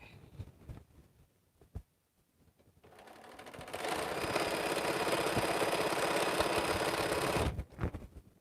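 A domestic sewing machine runs steadily for about four seconds, stitching quilt border pieces, with softer handling clatter and brief starts before and after the continuous loud hum.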